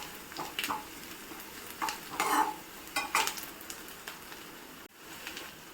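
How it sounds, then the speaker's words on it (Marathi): Onion fries in a pan for dal amti, a soft sizzle under several scraping stirs of a spoon against the pan, close and fairly quiet. "आता कांदा छान तळून झालाय, गुलाबी असा रंग झालाय."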